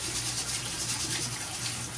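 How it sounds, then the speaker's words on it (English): Cold tap water runs steadily into a kitchen sink as green beans are rinsed, a constant soft splashing gush heard up close with no talk. "we're rinsing it. Cold water."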